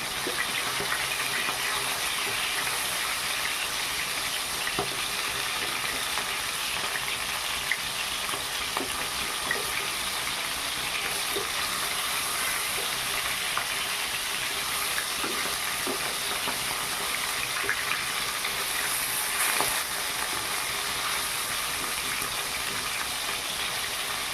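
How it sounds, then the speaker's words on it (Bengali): Pangasius fish fries in a modest amount of oil after being turned over, a steady, loud hiss and crackle that holds evenly throughout with no voices. "এই মাছ ভাজতে কিন্তু বেশি তেল দরকার হয় না"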